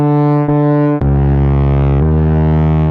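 Unprocessed Serum synthesizer patch with pitch glides: a loud, steady buzzy tone that slides down between held notes, shifting pitch around the half-second, one-second and two-second marks, with no voice.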